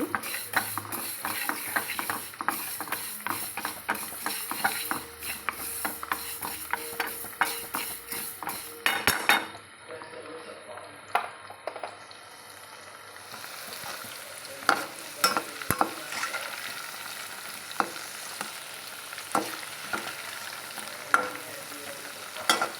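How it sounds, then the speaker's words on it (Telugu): Fenugreek seeds dry-roasting in a pan for a drumstick pickle, a continuous crackling fry with rapid ticking pops and repeated metal spoon scrapes against the pan, a brief quieter stretch midway before the stirring resumes. "మెంతులు కూడా ఇలా వేయించుకోవాలండి"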